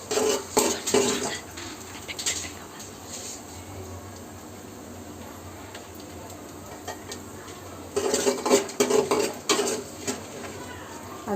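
Semiya vermicelli being roasted in a pan, with bursts of scraping and clinking from a utensil stirring against the pan, quiet hiss between, close by.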